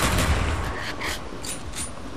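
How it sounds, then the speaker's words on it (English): Grenades exploding in the Call of Duty Nazi Zombies game mode: a quick cluster of loud, sharp blasts and crackling bursts over constant game noise, fading slightly over about two seconds. "I'm actually throwing grenades at them."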